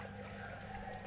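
Water draining out of a catfish pond, a constant gushing flow, close and steady throughout with no talk.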